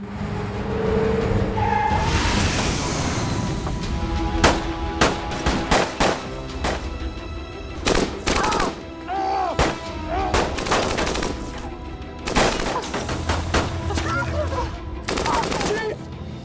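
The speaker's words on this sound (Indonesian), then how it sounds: "seorang pria bernama Jason yang kala itu sedang berbaku tembak dengan bos mafia" Gunfire in an action film shootout with a mafia boss: repeated sharp shots and bursts crack loudly across the scene, with rapid volleys, vehicle noise and skidding mixed in, and no voices.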